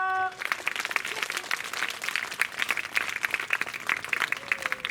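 Applause from a crowd at a Guru Purnima gathering in an ashram honouring village schoolgirls, dense steady clapping that runs through the whole stretch at moderate loudness, with no talking over it.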